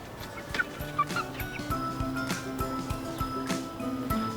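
Aseel hens cluck and chatter nearby in short, irregular calls, with a busy mix of bird noises and a faint steady tone underneath.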